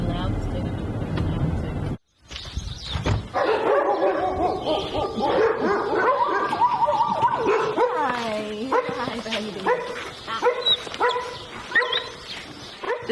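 Several dogs barking, yipping and whimpering in the foyer of a Moroccan animal aid shelter for street dogs, loud and overlapping after a short pause, with voices talking underneath.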